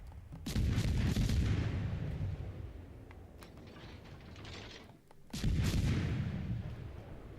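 Naval gunfire from destroyers in a video game: two heavy booming salvos with rumbling, crackling tails, the second following a brief lull, loud and close with no talking.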